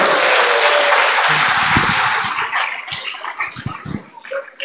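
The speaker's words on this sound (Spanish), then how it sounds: "Fuertes aplausos para nosotros." Loud crowd applause fills the first half, a dense wash of clapping that thins out into scattered, uneven claps and fades toward the end.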